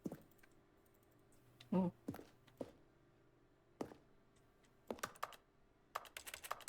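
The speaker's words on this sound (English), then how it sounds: "Why do you sound like a keyboard?" Scattered clicks and taps from a computer keyboard being typed on in short irregular bursts, close and fairly quiet, with a brief spoken exclamation among them.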